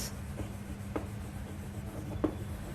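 Marker or chalk writing on a classroom board: a few short scratchy strokes spaced out over a low steady room hum, faint and close, no speech.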